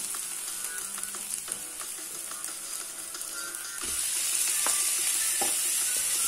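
Minced meat goes into a pan of lightly browned onions and fries, a continuous sizzle with light scraping and clicks that swells louder and hisses harder about halfway through, with no speech.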